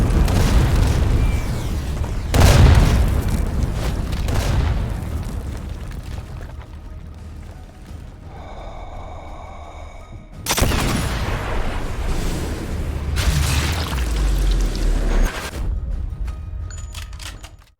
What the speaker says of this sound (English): I'm really, really pleased with the gun sounds in this game.